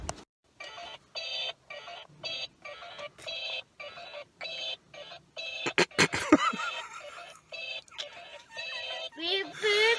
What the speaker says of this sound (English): Beep, beep, beep. It's not annoying at all.